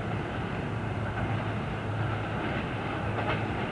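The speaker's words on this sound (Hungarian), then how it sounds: "most a vonat nagyjából már Szlovákiában van" A train rolls along the railway near Szob by the Ipoly bridge on the Hungarian–Slovak border, with a steady rumbling roll and a low hum that holds evenly throughout, loud and fairly close.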